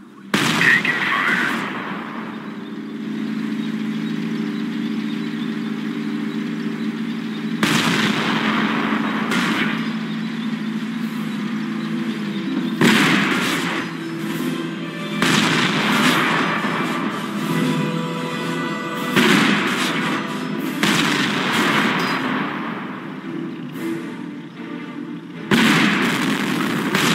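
In a Company of Heroes battle pitting US tanks against a veteran Flak 88 mm gun, heavy cannon blasts and artillery thuds hit repeatedly, with bursts of gunfire and rumbling between the sharp, loud impacts.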